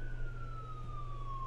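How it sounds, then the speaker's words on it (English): A distant siren wails in a slow, steady falling tone over a low constant hum. "Excuse the sirens."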